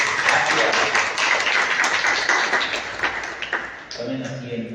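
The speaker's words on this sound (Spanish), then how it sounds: "los demás, un fuerte aplauso para ellos" Church class audience giving a strong round of applause after being asked to stand, a dense steady patter of many hands that fades slightly near the end as the room settles.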